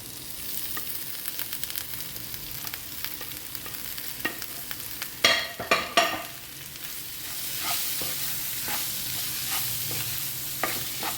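A cooked breakfast dish is stirred and mixed in a frying pan, with a low sizzle running throughout and several sharp scraping and clinking strokes of the utensil clustered around the middle.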